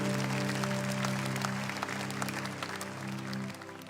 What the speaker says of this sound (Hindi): जोर से ताली के साथ परमेश्वर का थैंक्स करें।